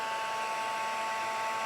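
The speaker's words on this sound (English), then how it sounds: "But this heat tool, once it heats up, melts the, I presume it's wax," A heat embossing tool blows hot air in a steady, continuous whirring hiss, loud and close, with no pauses and no voices.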